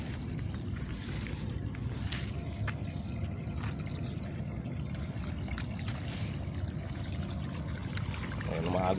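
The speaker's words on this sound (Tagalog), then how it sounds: "Tingnan, pinapaagusan ko pa rin ng tubig." Water runs steadily from a hose onto dry, heat-stressed garden plants such as chili plants in summer, a continuous close splashing trickle and gurgle that grows slightly louder near the end.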